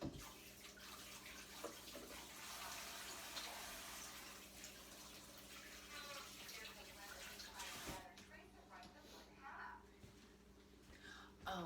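A kitchen tap runs steadily for hand washing, a loud, close broadband rush of water that thins near the end, with faint voices underneath.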